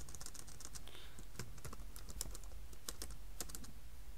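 Typing on a computer keyboard, a quick irregular run of light key clicks close by over a faint steady background hum, with no speech.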